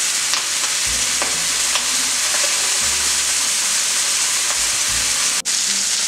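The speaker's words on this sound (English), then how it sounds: "Sear the roulade all over so that it will get evenly colored." A chicken roulade sears with rosemary, thyme and garlic in a very hot pan, giving a loud, steady, close sizzle with occasional faint knocks and shifts of the pan and no voices.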